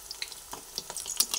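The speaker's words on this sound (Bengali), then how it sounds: "এরপরে দেখে নিচ্ছি একটা অংশ কতটা ভাজা হলো" Kakrol fritters fry in a pan of oil, a faint steady sizzle broken by sharp intermittent pops and crackles, with no talking.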